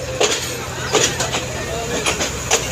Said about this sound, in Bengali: ফেরত ট্রেনটি ছুটে চলেছে ঢাকার উদ্দেশ্যে